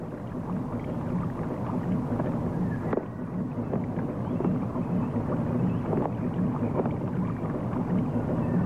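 A steamship's three-cylinder engine runs quietly, a steady low rumbling hum with faint wind noise and occasional soft knocks, and no talk.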